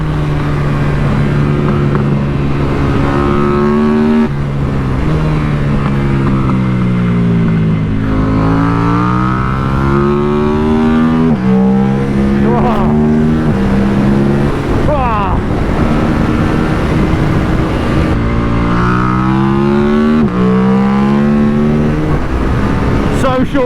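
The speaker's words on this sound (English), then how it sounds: "I hope you can hear this bike as well as I can." A 2024 KTM RC 8C, a short-geared 142 kg, 135 bhp racing motorcycle, revs hard. Its engine note climbs loud and close, drops briefly at each gear change, then climbs again, with a voice faintly underneath.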